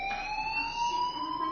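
A fire alarm in the video game Life is Strange rings with a steady, piercing electronic tone that slowly rises in pitch, loud and continuous throughout, with no talk.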